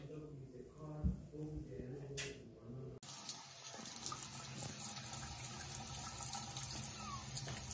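Tap water runs steadily into a sink during handwashing, with a voice talking over it at the start before the flow continues alone.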